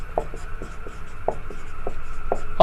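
A pen writes a maths equation on paper during a Class 10 lesson, making a series of short, irregular scratching strokes, close and fairly quiet, with no talking.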